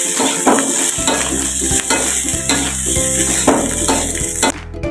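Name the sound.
stirring fried rice with soy sauce in a pan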